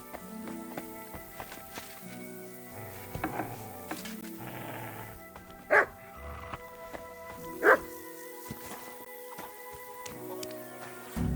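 A dog barks a few times in the medieval video game Kingdom Come: Deliverance II, with hooves clip-clopping and ambient game sounds around it and no talking.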